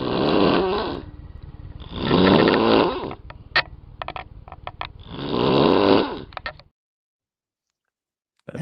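A person imitates loud snoring: three long, rasping snores at an even pace, close and alone, then a moment of silence.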